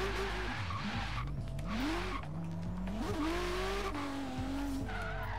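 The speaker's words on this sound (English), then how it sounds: "This car just screams, and I didn't even put an exhaust on it." A 2017 Acura NSX in the Forza Horizon 3 racing game screams at high revs while drifting, with steady tire squeal and rising and falling engine pitch that stays loud throughout.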